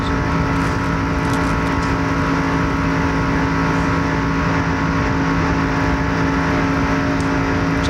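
Stock race cars of the 1997 ARCA series roar around the 2.5-mile Daytona International Speedway in a tight pack, a loud, continuous engine drone that holds steady throughout with no voices over it.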